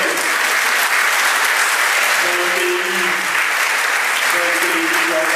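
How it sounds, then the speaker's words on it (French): Sustained applause from the audience at a Saint-Chamas civic evening in 2019 as the municipal youth council members are called up, dense steady clapping throughout with faint voices underneath. "Vous pouvez les applaudir."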